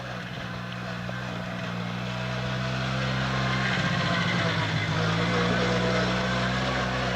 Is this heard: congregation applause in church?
no